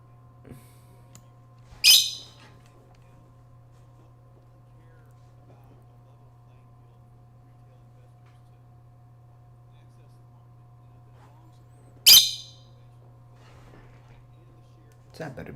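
A bird calls with two brief, sharp chirps about ten seconds apart, each fairly close and clear against a steady low electrical hum in an otherwise quiet room.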